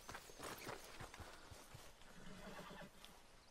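A horse whinnies while hooves clip-clop in Red Dead Redemption 2, short loose neighs over scattered hoofbeats in the open around Valentine, quiet overall with no talking.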